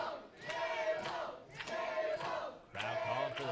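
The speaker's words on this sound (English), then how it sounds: "Crowd calling for the tables." A wrestling crowd at a Canadian indie show, PWE Rocktoberfest 2015, chants loudly and rhythmically for the tables, with three swelling bursts of massed voices and no single speaker standing out.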